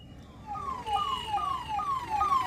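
Ambulance siren wailing while stuck in traffic during a farmers' protest bandh, a repeating rising-falling electronic wail cycling steadily over a dense rumble of traffic noise.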